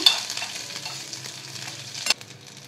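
Four green chillies and two spoonfuls of white sesame seeds being sautéed in a pan, giving a close, steady sizzle with light stirring scrapes and a sharper clack near the end, with no voices.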